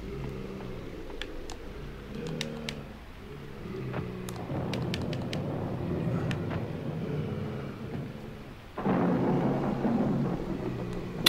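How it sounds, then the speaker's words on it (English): Thunder in the video game Nightmare Creatures II, a low rumbling storm with rain-like hiss and scattered crackles that builds to a louder roll near the end, with no talking. "Is it supposed to be lit up with thunder and lightning and you have to kind of hang around until there's a thunder flash?"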